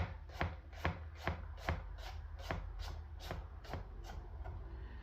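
A knife chops garlic on a cutting board with about a dozen crisp, evenly spaced strokes, close and clear over a quiet background, with no talking.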